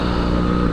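A motorcycle engine during a leisurely cruise, a loud, close, steady low rumbling drone with a dense harmonic buzz lasting under a second.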